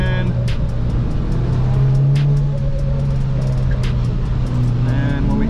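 A 2017 Audi S3 driven hard around an autocross course, its engine droning loud and steady with rising and falling revs, heard close from inside the car with brief clicks and squeaks on top.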